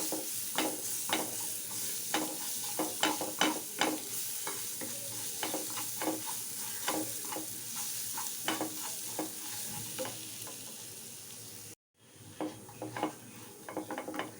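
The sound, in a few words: sautéing garlic in butter with cumin seeds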